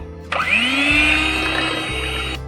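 An electric hand beater whirs close up through butter cake batter with eggs, a steady motor drone of about two seconds that starts and stops abruptly, with no talking.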